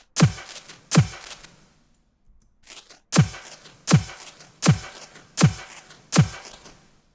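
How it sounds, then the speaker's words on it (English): Phaser effect applied to sounds in music production, heard as a series of sharp percussive hits with sweeping tails, about seven strikes spaced roughly a second apart with a gap in the middle. "Let's just see what phaser sounds like."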